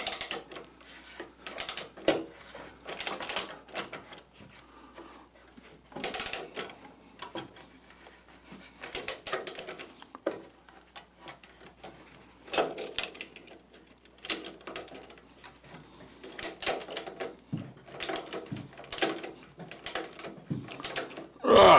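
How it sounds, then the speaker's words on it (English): A ratchet wrench clicks in irregular bursts while a Gravely brush deck is being removed from a walk-behind tractor. The crisp, close ratcheting comes in spurts separated by pauses and handling noise. "Gotta remember to go the right way with the ratchet."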